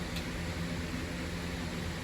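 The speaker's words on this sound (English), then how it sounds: "Sorry about the fan noise" Fan running in a garage, a steady broadband whoosh with a low hum underneath, even and continuous with no speech.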